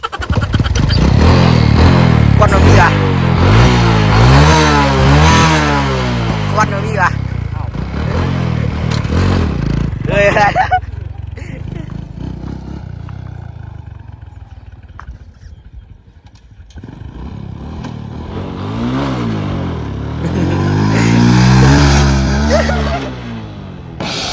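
Engine of a Honda Wave 125 motorcycle with a modified cylinder head, running and revving in repeated rising bursts, loud and close, with a quieter idling stretch in the middle and someone talking over it.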